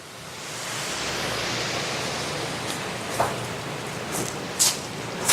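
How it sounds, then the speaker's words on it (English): Steady broadband rush of a waterfall at a cemetery, a continuous wash of falling water heard from fairly close, with a few faint clicks and taps over it. "Hey, it's a beautiful waterfall."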